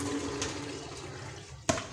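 Water is poured off carom and fennel seeds after washing them at home, a steady wet rush that ends in a short, sharper splash near the end, with no talking.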